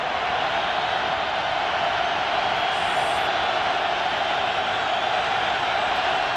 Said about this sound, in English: this crowd is going to make it even more difficult on these tackles to try and hear the snap count